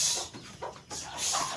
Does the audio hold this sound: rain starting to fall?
no